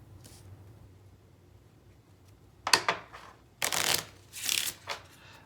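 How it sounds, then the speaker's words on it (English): Cards from an encounter deck shuffled by hand on a tabletop, with several quick riffling bursts close to the mic after a quiet stretch and no talking. "shuffle up the encounter deck"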